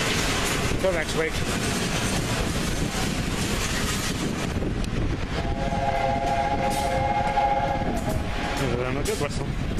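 A steam train rumbles by with steady wind and track noise, then a sustained steam whistle sounds for a few seconds over the din before fading.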